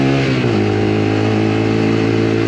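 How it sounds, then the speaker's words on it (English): A Lexmoto LXR 125 motorcycle engine revs up sharply from a lower note into a loud, sustained high-pitched exhaust whine, close and continuous. "I do like the scream of the exhaust."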